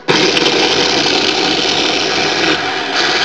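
A small electric motor spun by a homemade driver circuit runs under load with a loud, steady, broadband whine and hum, continuous from start to finish with no speech.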